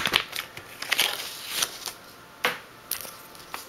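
A sturdy security envelope for mailing a large coin is handled up close, giving crisp paper crackles and rustles in several sharp bursts with short pauses between them.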